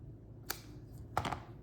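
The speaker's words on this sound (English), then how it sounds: "Now let's cut this ribbon down." Scissors cut through ribbon in two quick crisp snips, the second a short double cut, close by in an otherwise quiet room.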